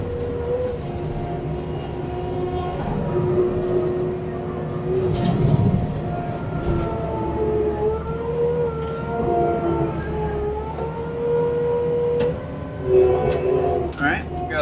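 A leaf mulcher sucks up and shreds dry leaves with a continuous droning motor whine and shifting pitched hum, its loudness rising and falling as debris passes through, heard up close.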